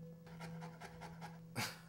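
A dog pants in quick, steady rhythmic breaths close to the microphone, with a low constant hum underneath and a brief louder burst near the end.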